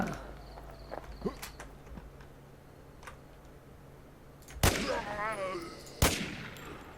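In the video game Infestation, two sharp, loud gunshot blasts ring out one after another near the end, following quieter clicks and ambient background hum.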